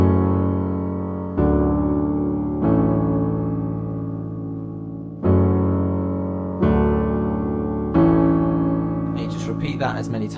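Solo piano plays a passage from a song: sustained chords struck at regular intervals, each decaying before the next, close and clear, with a faint bit of noise at the end.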